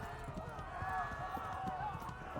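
Horse hooves clip-clop in a rapid, even rhythm in the medieval game Kingdom Come: Deliverance, heard close and steady under music-like tones.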